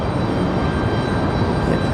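A Delta Airbus A319 airliner climbs away from Raleigh-Durham airport on departure for Tampa, its engines giving a steady, loud, broad roar.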